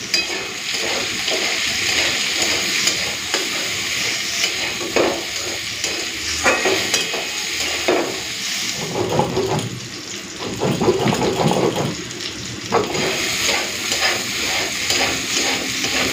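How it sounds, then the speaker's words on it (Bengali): Snake gourd fries with sprinkled poppy seeds in a kadai, giving a continuous sizzle broken by bursts of spatula scraping and stirring, close and fairly loud with no talk. "আর পোস্ত ছড়িয়ে না চিচিঙ্গা ভাজা খেতে কিন্তু ভালো লাগে, তাই আজকে আর পোস্তটা বেটে দিলাম না, এইভাবে একটুখানি ভেজে নিচ্ছি।"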